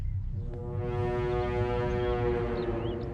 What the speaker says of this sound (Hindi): घर के सामने आकर हॉर्न बजा रहा है